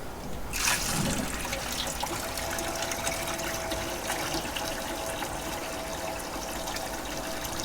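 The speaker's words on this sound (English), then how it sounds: "We'll start getting water poured in before I connect it." Water pours into a boat's bilge during restoration work, ahead of testing a Lopro automatic bilge pump, making a steady close trickling and splashing wash that holds evenly for several seconds after a brief louder start.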